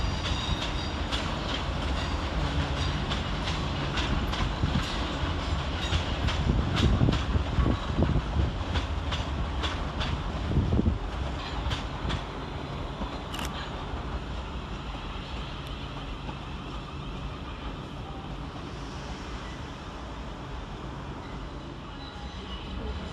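Southeastern Railway electric multiple units 450013 and 450105 pulling into London Waterloo station, a steady low rumble with wheels clicking over rail joints, louder midway then settling into a quieter idling hum.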